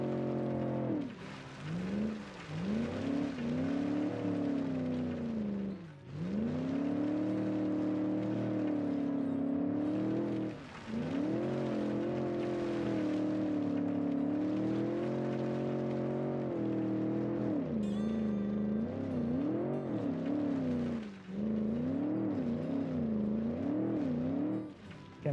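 A 1973 land yacht, a big oil-crisis-era car, is driven in a test with a steady engine drone that rises and dips in pitch throughout. The sound is continuous and close, with no talking.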